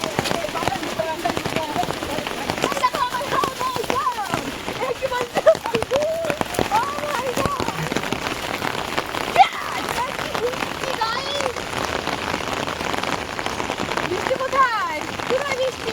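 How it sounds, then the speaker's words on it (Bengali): Steady rain patters down on an open field, a close, even wash of drops, while voices chatter over it at intervals. "বৃষ্টিটা একটু কমে গেছে"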